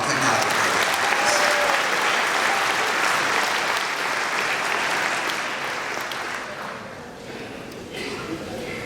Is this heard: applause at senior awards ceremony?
yes